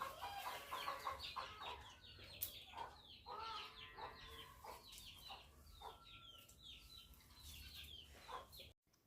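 Hens cluck repeatedly around soaked paddy at a village home, a fairly quiet run of short clucks and chirps with some nearer bursts and a brief flutter, no talking.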